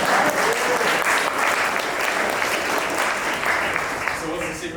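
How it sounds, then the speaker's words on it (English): Seminar audience bursts into dense, sustained applause, loud and close throughout, with scattered cheers blended in. "Round of applause for that."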